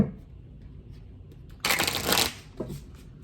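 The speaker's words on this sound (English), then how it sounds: "give it one more shuffle before we pull." A deck of cards riffled once in a quick burst of crisp fluttering, followed by a brief second shuffle, close by in a quiet room.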